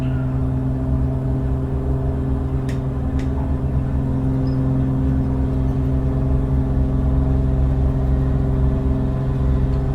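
Rockwell Commander 114 piston engine held at takeoff power in a flight simulator, a loud, steady droning hum with strong low harmonics that continues unbroken, with no voices present.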